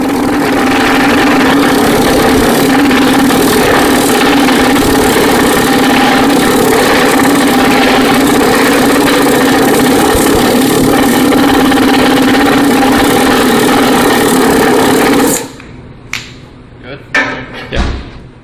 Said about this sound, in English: Be sure to wear proper hearing protection while using the pneumatic rammer.